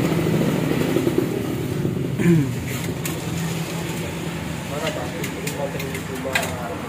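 A Vespa scooter fitted with an RX King piston runs in a workshop, its engine chugging steadily at moderate volume with faint clicks and knocks.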